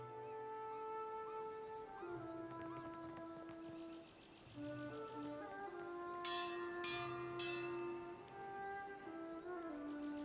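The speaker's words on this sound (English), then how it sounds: "Who's rung the bell and why?" A church bell rings out in the Pillars of Eternity II: Deadfire video game, its struck tones rising over a sustained musical score, with several bright metallic strikes layered near the middle of the passage.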